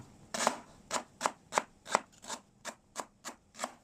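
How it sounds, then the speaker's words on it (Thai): A knife chops lemongrass on a cutting board for a Thai tom soup, about ten crisp, evenly spaced cuts sounding close and alone. "ก็หั่นไปเลยสำหรับตั้ม"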